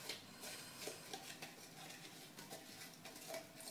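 A small spatula scrapes and taps against a pan while stirring onions, producing quiet, irregular clinks and scraping strokes over a faint background hiss.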